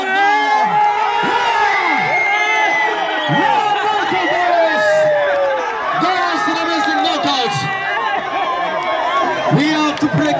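A crowd cheering and whooping at a team competition between the Westerners and the City Commandos, loud overlapping shouts and calls rising and falling close by, with voices chattering amid the noise.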